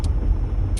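A truck cruising at 70 mph gives a steady, close low rumble of road noise that fills the short stretch without a break.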